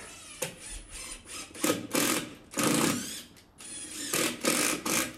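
A power driver whirs in four short bursts as screws go into an ash entry step board from underneath, each burst buzzing and ratcheting close by with brief pauses between.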